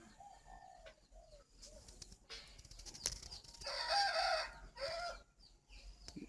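Spotted doves on a bird farm give repeated soft cooing calls, mixed with other birds clucking and crowing nearby, the calls rising and falling in short bursts with a louder stretch toward the middle.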